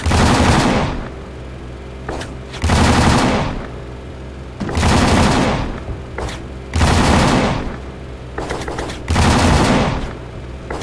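Rapid automatic gunfire in a video game comes in five loud, evenly spaced bursts of roughly a second each, separated by brief quieter gaps.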